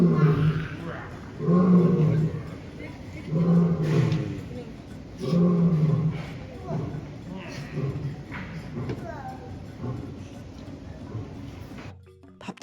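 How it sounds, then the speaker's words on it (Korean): A lion at Bali Safari park gives a loud series of deep, rhythmic roaring grunts, four big bursts that trail off into smaller ones, echoing nearby. "사자가 우는 소리가 엄청 크게 울립니다"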